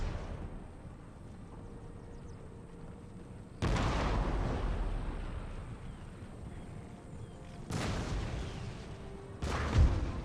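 Cannon fire at range in Empire: Total War, with heavy booming blasts rising out of a steady battlefield rumble at irregular intervals, loudest near the end.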